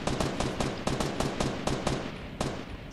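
Gunfire in Fortnite Battle Royale: a rapid string of sharp, loud shots in a fast uneven rhythm, roughly a dozen cracks over a few seconds, the last one after a short gap.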